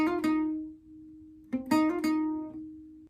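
Acoustic guitar plays the quick closing phrase of the song, a couple of fast plucks over a ringing sustained note, then a brisker flurry of picked notes, close and alone.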